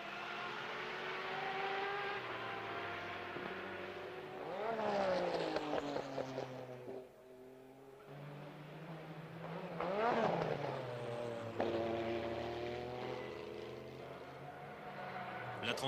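Race cars at the 1991 24 Hours of Le Mans, including a Walter Brun Porsche and a Mercedes C11, roar steadily past, with two loud swelling passes whose engine pitch rises and falls, continuous racing noise throughout.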